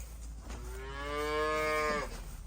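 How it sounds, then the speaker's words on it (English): A calf moos once in a cow barn, a single drawn-out call close by lasting over a second and swelling in the middle before trailing off, against quiet barn background. "I can hear the calves, so they are a lot more vocal."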